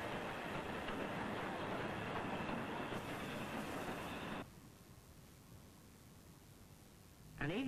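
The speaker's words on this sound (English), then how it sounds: "An evening train crosses the Cobb back to the railway's main headquarters" A train on a preserved heritage railway rumbles past close by while crossing the Cobb, with steady clattering noise, then cuts off abruptly to a quieter hum before a brief loud burst at the end.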